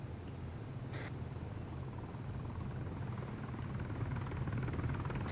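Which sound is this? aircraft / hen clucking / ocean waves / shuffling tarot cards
aircraft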